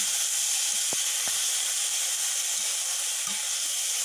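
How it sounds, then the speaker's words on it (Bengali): Boiled taro leaves frying on low heat in a pan, a steady even sizzle and hiss throughout with a couple of faint clicks, close and unbroken, no voices. "কয়েক মিনিট কিন্তু এইভাবে লো হিটে ভেজে নিতে হবে"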